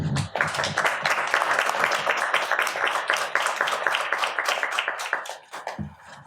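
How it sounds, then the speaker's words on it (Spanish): A room of people applauds Javier at a critical-thought and poetry event, brisk close clapping that carries on for several seconds before fading out. "Les pido por favor un aplauso muy grande también para Javier."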